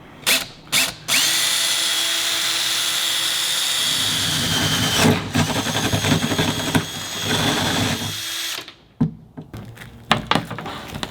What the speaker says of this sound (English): Every hole I drill in the roof gives me so much anxiety.